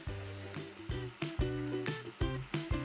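Grated tomatoes cooking with masala spices in a pan, a soft sizzle broken by repeated stirring scrapes at a steady rhythm, fairly quiet.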